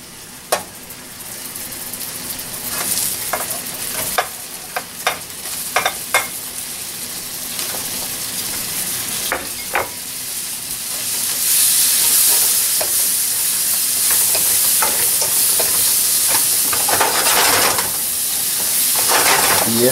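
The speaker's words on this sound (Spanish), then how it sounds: "Ahora vamos a agregar los camarones." Shrimp hit a pan of sauce and fry with a steady loud sizzle, a utensil scraping and clinking against the pan as they are stirred, the hiss swelling louder partway through.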